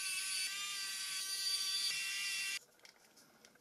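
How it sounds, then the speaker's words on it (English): Small electric screwdriver driving screws into a Nokia 2760 phone housing, a steady high-pitched whir for about two and a half seconds that stops abruptly, leaving faint light clicks. "let me put the screws first"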